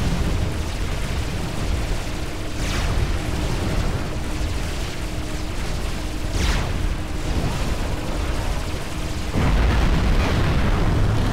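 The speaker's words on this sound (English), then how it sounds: "Fires just a constant stream of torpedoes, which are doing quite a lot of damage" Torpedoes keep hitting a battleship in a real-time strategy video game (Supreme Commander, Cybran mission). A dense, continuous roar of explosions and booms carries a few sharper blasts standing out from the din.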